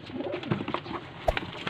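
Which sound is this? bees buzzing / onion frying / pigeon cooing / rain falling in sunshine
pigeon cooing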